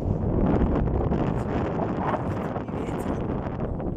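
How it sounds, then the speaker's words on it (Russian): Strong wind buffets a microphone outdoors, making a loud, continuous low rumble and roar that barely lets up, with no speech. "Ветер поднялся."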